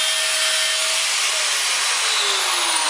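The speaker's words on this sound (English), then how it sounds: "Place said bolt in a vise, mark it, and cut off the excess." A bolt clamped in a vise is cut to length with a steady, continuous hissing rasp of a cutting tool that holds an even, fairly loud level throughout, with no talking.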